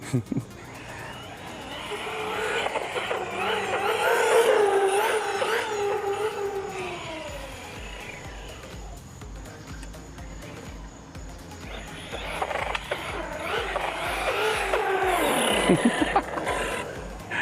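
A Team Corally Jambo XP 6s RC car on 6S lipos, pushed near full throttle during a night run, gives a loud high-pitched motor whine that surges, sags and climbs again in two long sweeps.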